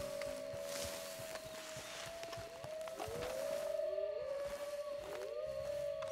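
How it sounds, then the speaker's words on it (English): Wolves howling in Red Dead Redemption 2, several long, overlapping wavering howls rising and falling over footsteps and outdoor ambience, moderately loud and fairly near. "I'm hearing a lot of wolves."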